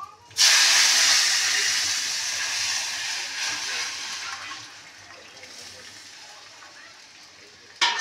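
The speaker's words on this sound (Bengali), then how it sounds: "এবার ডালটা পুরো ঢেলে দেবো।" Dal is poured into a hot tempering of mustard seeds and dried chillies, setting off a sudden loud hissing sizzle that slowly fades over several seconds.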